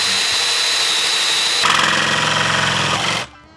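A power tool saws through wood while a table is being built, a steady loud whine that rises in pitch and grows harsher midway, then cuts off abruptly near the end.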